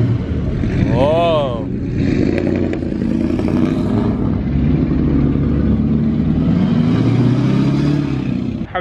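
A lifted truck's engine with long-tube headers rumbles loudly nearby at a night truck meet, revving up and down with a deep, throaty, raspy roar, while voices chatter in the background.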